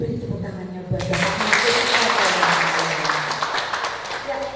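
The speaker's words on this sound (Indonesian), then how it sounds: "Ya, Bapak Ibu, beri tepuk tangannya buat Bapak." An audience at a New Year talk show breaks into applause for a speaker, a sustained, fairly loud burst of clapping that starts abruptly after talk and then tapers, with a voice heard before and after.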